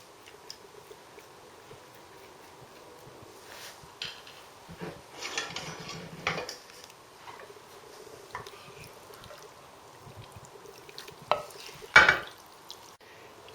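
Minced pork being added to a pan for Cypriot makaronia tou fournou (pastitsio) and stirred, with scattered scraping and clinking of utensil on pan over a faint sizzle, louder clatter near the end.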